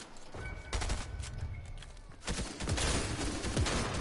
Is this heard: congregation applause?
no